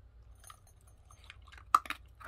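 A Basenji dog chewing new dry dog food, with soft close crunches and wet chomps at an irregular rhythm and a sharper bite near the end, faint and quiet throughout.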